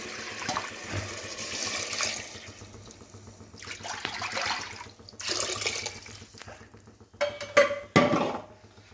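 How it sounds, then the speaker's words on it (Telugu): Four cups of water are poured into a pot of dal and rice in a few splashing bursts, with brief pauses between them and a metallic clink near the end. "4 కప్పుల వాటర్ పోసుకోవాలి."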